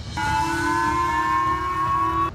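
A steady, sustained air raid siren wail holds one unwavering tone for about two seconds, loud and alone, then cuts off abruptly, sounding in Uttarkashi after an avalanche.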